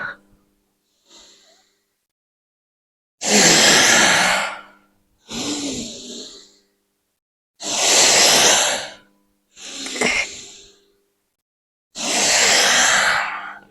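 Slow, deep breaths in and out during back exercises, five loud, close breaths, each lasting a second or more and separated by pauses, with faint softer breaths before them.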